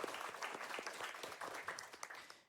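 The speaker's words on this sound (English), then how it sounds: "Round of applause for our community coordinators." Audience applause for the community coordinators at the RPGLB 2025 finale, a dense, steady patter of many hands that holds for a couple of seconds and then tapers off at the end.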